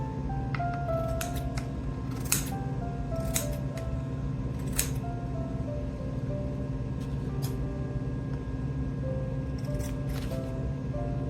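Scissors trim excess felt on a snow-scene cardinal ornament, several short crisp snips spaced irregularly over a quiet, steady background hum.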